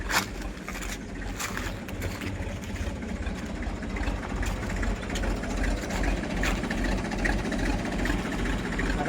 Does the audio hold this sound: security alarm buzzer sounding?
no